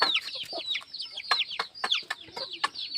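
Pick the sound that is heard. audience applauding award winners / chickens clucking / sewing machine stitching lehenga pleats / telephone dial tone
chickens clucking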